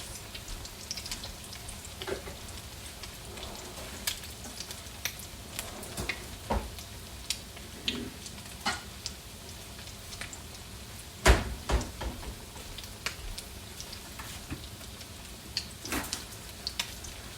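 Salmon patties fry in a pan over medium to medium-high heat, giving a soft, steady sizzle dotted with scattered sharp pops and ticks, with no talking.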